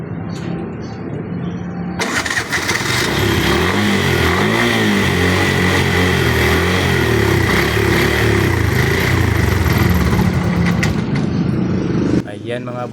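A Bajaj Maxima Cargo with an idle fault starts abruptly after a quiet moment and runs loudly nearby, its revs rising and falling before it cuts off near the end, with voices underneath.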